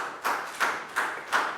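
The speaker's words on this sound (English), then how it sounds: "High five and a big round of applause for Prel, please, guys." Students in a Year 4 maths classroom clap for a classmate, giving four evenly spaced claps at a fairly quiet level with no talk over them.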